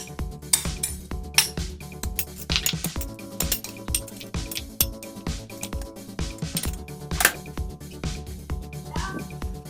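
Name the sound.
stirring salted turtle dove meat in a bowl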